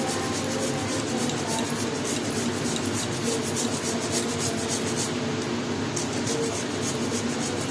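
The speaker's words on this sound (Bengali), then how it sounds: "খেজুরের গুড়ের পাটালি গ্রেট করে নেবো গ্রেটারে করে" Date palm jaggery (patali) grated on a kitchen grater, giving a continuous, steady rasping scrape with a dense rhythmic rubbing texture that holds close and even from start to finish, with no voices over it.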